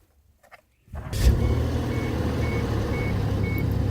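A 2001 Chevy Tracker with a 2.5L V6 cranks and catches after a quiet pause, then settles into a loud, steady idle nearby while a faint warning chime repeats at even intervals.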